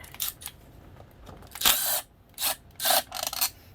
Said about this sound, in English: we're going to take that one screw that I have in there out